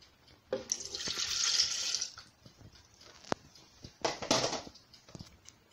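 Milk poured into lemon cake batter with four whole eggs, a steady liquid stream splashing into the bowl in two bursts, close and fairly soft with no talking.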